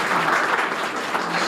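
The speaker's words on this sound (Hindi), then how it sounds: "सर के लिए ताली बजाओ" Audience applause fills a school hall at King's Academy, Sikar, after a speech, a steady dense wash of clapping hands that carries on without a break for the whole stretch.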